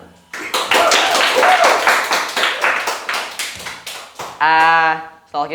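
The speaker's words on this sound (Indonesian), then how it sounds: "Tepuk tangan dong" A small group of students claps in a school OSIS room for a guest, with uneven bursts of hand claps and taps, and speaking voices heard around them.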